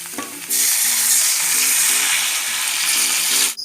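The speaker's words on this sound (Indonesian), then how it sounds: "masukkan daging dan masukkan air yang tadi bekas rebusan daging" Meat and meat broth hitting hot frying spice paste with grated galangal, a loud sudden sizzle that starts after half a second and roars steadily, with faint low tones underneath.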